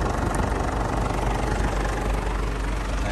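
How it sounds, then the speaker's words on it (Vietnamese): Diesel 2.5-litre engine of a 2013 Ford Everest running at idle, a loud, continuous, rough clattering rumble heard close up with no talking. "Khoang động cơ máy dầu thì bao giờ thì nó cũng nổ to máy xăng một chút."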